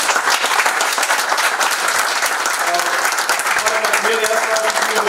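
An audience at a networking event applauds the panelists with dense, sustained clapping throughout, loud and close, with faint voices underneath.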